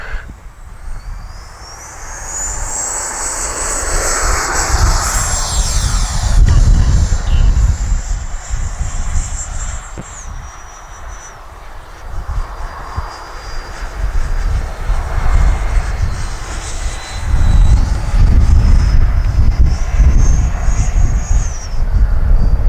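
An FMS F-86 80mm electric ducted-fan RC model jet takes off, its loud high-pitched fan whine rising and sweeping in pitch as it speeds away and passes, with a rumbling roar underneath throughout.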